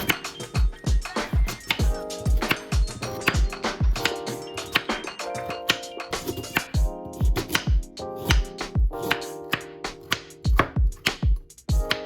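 Carrots are cut with a dull kitchen knife, the blade knocking repeatedly on the board in close, fairly steady chops with brief irregular pauses, heard alone and at moderate volume.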